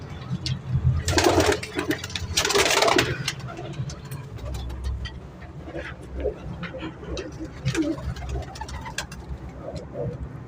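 Salara pigeons kept for sale coo and murmur softly while two loud bursts of wing flapping break out near the start, followed by scattered calls and rustling nearby.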